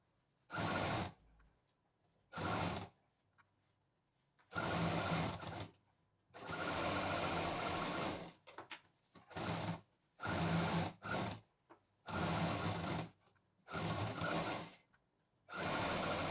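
Bursts of a sewing machine stitching the bottom seam of a sling bag, with short and longer runs of rapid close motor whirring separated by quiet pauses, no talk over it.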